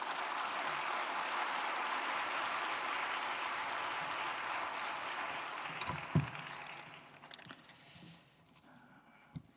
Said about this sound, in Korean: 우리 서대문교회 담임으로 계시는 장봉생 목사님, 여러분 뜨거운 박수로 맞이해 주시기 바랍니다.